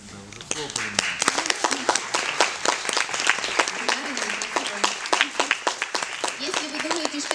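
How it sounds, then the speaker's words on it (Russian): An audience applauds at a film press conference for its cast, with dense, steady clapping running throughout and a voice speaking briefly over it near the start. "Да, уже хлопаем"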